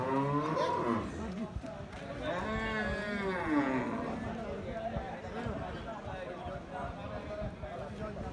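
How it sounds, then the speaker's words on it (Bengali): A cross-breed beef bull at a cattle market in Dinajpur gives long, wavering moos near at hand, with people talking around it and general market noise behind. "আমরা এখানে দেখছি একটা ক্রস জাতের মাংসের ষাঁড় গরু।"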